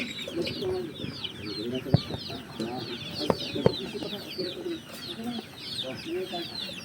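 A first batch of 1,000 ducks on a duck farm keeps up a dense, busy chorus of chattering calls and peeps nearby, with people talking faintly in the background.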